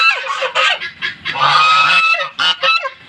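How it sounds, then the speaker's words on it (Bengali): A goose honks loudly and up close, a run of harsh, nasal calls in quick bursts. "এই রাজহাঁস"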